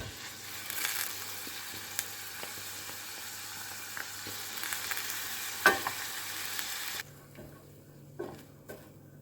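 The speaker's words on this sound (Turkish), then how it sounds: "Hemen kıymamı kavurmaya başlıyorum tereyağımla beraber" Minced meat sizzles steadily in butter in a pan with occasional scraping and stirring clicks, dropping to a quieter hiss near the end.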